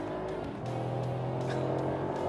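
A 2023 Mercedes-AMG SL 63 revs under acceleration, its engine note swelling into a steady, rising drone inside the car, moderately quiet and with no talk.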